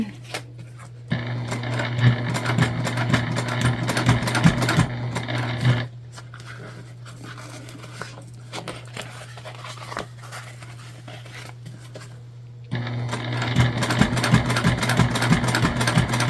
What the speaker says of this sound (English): And we are back stitching.